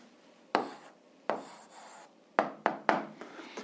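An answer is handwritten on paper during an eighth-grade algebra exercise: close, quiet scratching strokes, one at about half a second, another near 1.3 seconds, then a quick cluster of three short scribbles toward the end.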